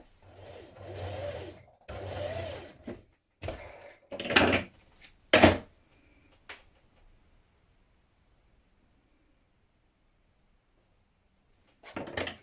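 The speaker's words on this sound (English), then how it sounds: "we're just sewing to a V here" Sewing machine stitching a seam that tapers to a V on a Burda magazine top, close and loud in several bursts of whirring stitches separated by short pauses, then a long quiet stretch before one final brief run.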